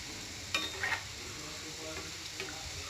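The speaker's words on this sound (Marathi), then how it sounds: "असं तेल सोडायचं आणि थोडं तळून घ्यायचं." Coconut-filled modak frying in oil in a pan, a steady close sizzle broken by a few brief spatula scrapes and clinks.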